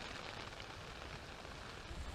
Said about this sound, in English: this morning it's raining outside